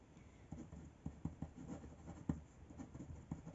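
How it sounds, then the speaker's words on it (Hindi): A pen writes on paper in soft, close scratching strokes with small taps, irregular and faint over quiet room tone, with no voices. "I'll write with the pen only"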